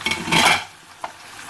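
Pre-browned onions tipped into a pot of frying meat for Pakistani aloo gosht, a brief clattering scrape and stir with a soft sizzle, then quieter cooking with a small clink near the end.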